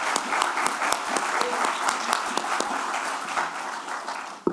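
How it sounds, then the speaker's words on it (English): An audience at an outdoor groundbreaking ceremony gives a round of applause, dense overlapping claps holding steady for several seconds before thinning out, with faint voices mixed in. "Let's give them a round of applause,"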